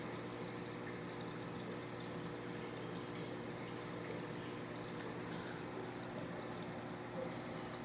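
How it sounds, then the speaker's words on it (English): Aquarium water drains steadily through a sieve during a tank water change, a continuous close trickling and pouring wash with a faint low hum beneath, no voices. "You can see it's almost at the bottom of the sieve and nearly finished draining."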